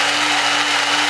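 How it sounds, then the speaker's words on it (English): A countertop blender whirs steadily while blending a dairy-free coffee drink, a loud, even motor whine with a constant hum that cuts off abruptly at the end. "when it's done blending"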